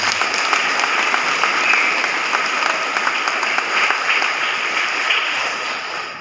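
An audience at a martial arts association leader's speech during a regional visit applauds in a sustained, even roar of clapping that carries at a constant level throughout with no voices over it.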